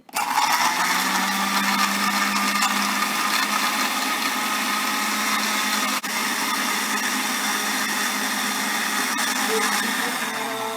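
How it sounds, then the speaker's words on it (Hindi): A blender making milkshake whirs steadily at high speed for several seconds, a loud constant motor hum with a brief hitch midway. "फिर चंद सेकंड्स के लिए हम ब्लेंडर को चला देंगे"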